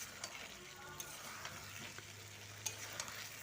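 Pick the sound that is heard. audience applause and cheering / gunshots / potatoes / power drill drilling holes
potatoes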